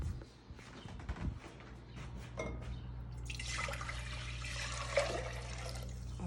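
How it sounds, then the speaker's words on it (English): Four cups of water poured from a bowl into a big mixing pot: a soft, close splash and trickle that grows into a steady pour in the second half, with faint handling noises before it. "we are going to put it into a big mixing pot."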